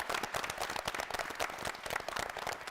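Quiet, scattered clapping from students at a school team quiz competition, a light patter of individual claps heard from a distance.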